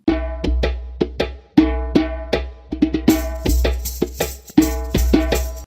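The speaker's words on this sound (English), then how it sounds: "Next, we're going to add some India bells." India bells ring in a repeating pattern on alternate bars over layered electronic percussion, with bright metallic strikes and sustained tones above steady beats.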